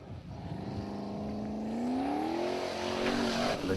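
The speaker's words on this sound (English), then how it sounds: "A lot of power in this car." A Formula Offroad car at Stapafell in Iceland, 2018, drives up the course, its engine climbing in pitch as it revs hard, moderately distant and alone.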